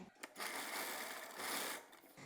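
A sewing machine stitching organza skirt fabric runs in a steady whirring burst for about two seconds, close but fairly quiet, with no talking.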